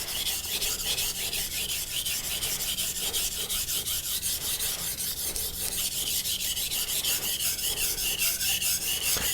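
A knife blade stroked back and forth on a 1000 grit whetstone, giving a steady, rapid gritty scraping rhythm, close and loud, with no voices.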